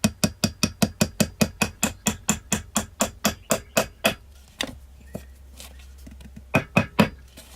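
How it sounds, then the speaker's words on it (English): A hammer taps a pin into the front sight of a CZ 75 pistol, a quick run of about twenty sharp, evenly spaced metallic strikes, then a pause and a few final taps, close and alone. "Now we're going to take the hammer and just tap it in."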